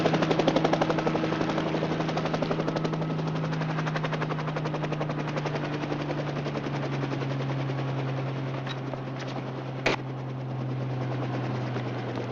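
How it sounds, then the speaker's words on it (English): Helicopter in an American sitcom scene, a steady close rotor drone with rapid chopping pulses held for the whole stretch, one sharp click near the end and no talk. "A helicopter."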